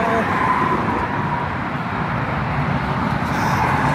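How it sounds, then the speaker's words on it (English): Loud traffic roars past nearby in Dallas, a steady wash of car noise with wind rumbling against the microphone. "there's lots of wind. But so much wind and loud cars going"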